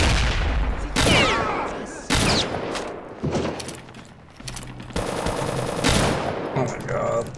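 Gunfire bursts in the first-person shooter RealRTCW, loud rapid machine-gun volleys and single shots in repeated clusters across the clip, with a voice speaking now and then in between.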